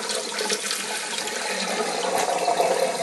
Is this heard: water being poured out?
yes